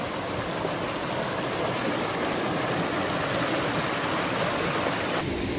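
A river runs over a small waterfall at Cachoeira do Frade in Ubajara, giving a loud, steady rush of water that continues without a break and with no voices.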